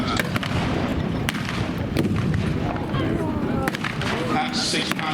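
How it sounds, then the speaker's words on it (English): A 6-pounder tank gun fires at a Tankfest display at the Bovington Tank Museum, with a few sharp distant bangs over steady crowd murmur and outdoor noise. "That's 6 pound of gun firing."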